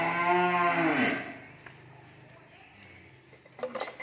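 Cattle on a cattle farm give a long, loud moo up close, which fades into quieter farm background with faint clatter near the end.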